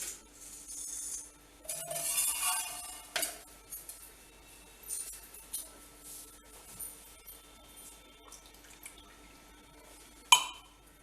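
Water poured into a pot for rice flour dough while making kozhukattai in a home kitchen: a faint splashing pour in the first seconds, then quiet clinks and drips of utensils, with a brief sharper clatter near the end.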